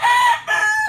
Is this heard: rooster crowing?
yes